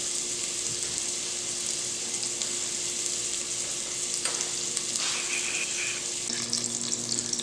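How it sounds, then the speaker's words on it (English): Pork sizzles and fries steadily in a pot as its fat renders down for homemade pork and beans, a continuous close crackle with a few brief clinks and stirring sounds and no talking. "So we're going to cook this pork off."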